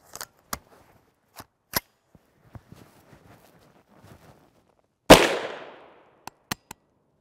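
A 9mm pistol with a Glock magazine firing GECO 115-grain FMJ rounds lets off one loud, sharp shot with a decaying echo. Sparse clicks and knocks from handling the gun come before and after it, and no one speaks.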